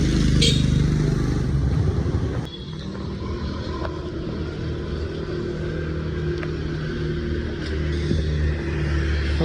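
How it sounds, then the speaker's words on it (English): A lone motorbike engine rumbles steadily on a quiet street in Vietnam, a continuous low drone that stays close and fairly loud throughout, with a sharp shift in tone partway through. "It says it's one lonely bike behind me."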